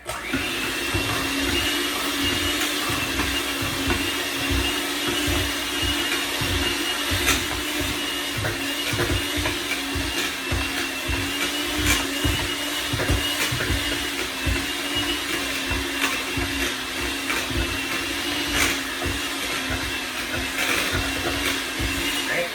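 Electric hand mixer beaters whipping potatoes for colcannon, a continuous loud motor whir with a rough churning, knocking texture as the beaters work through the mash, steady for the whole stretch.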